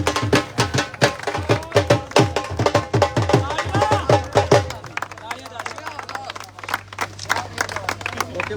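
Crowd at an outdoor village tournament prize ceremony gives the player of the tournament a burst of steady rhythmic clapping for several seconds, then it breaks off and leaves a low electrical hum and faint background murmur.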